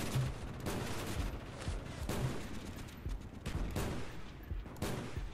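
Gunfire in Call of Duty Black Ops, with a sniper rifle among it: several sharp loud shots spaced about a second apart over a dense battle din, without talk.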